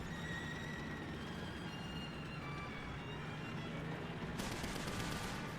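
Rapid gunfire in an online shooter game, a dense continuous volley of shots over several seconds, loud and sustained with no pauses.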